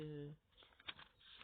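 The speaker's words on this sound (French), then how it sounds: "le bruit de mon carnet où je note tous les rêves." Soft, close rustling of paper pages in a notebook of recorded dreams, a few faint crinkly flicks and brushes after a short voiced sound at the start, quiet and brief.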